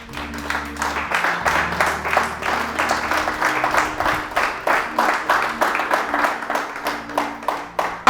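A church congregation claps together in a steady rhythmic beat, loud and close, with a low sustained musical tone underneath.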